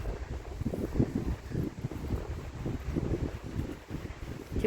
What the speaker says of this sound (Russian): Тепло, хорошо, но очень ветрено.